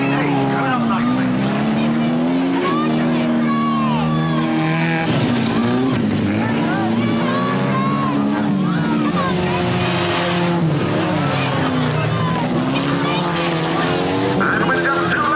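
Race cars roar around a track during a race, engines loud and continuous with rising and falling pitch as they pass, under steady commentary.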